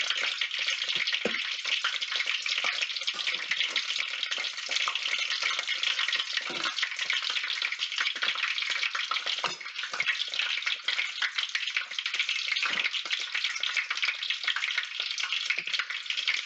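Corn and green onion fritters deep frying in about two cups of oil make a loud, steady, close sizzle and crackle that runs continuously throughout, with occasional small pops and no talking.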